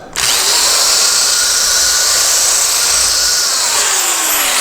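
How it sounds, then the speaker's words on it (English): A power drill whines loudly and steadily while enlarging a hole for a folding satellite dish LNB arm, running continuously at high speed throughout with no pauses. "Start the drill, and then you're going to rotate it at a slight angle in a circle."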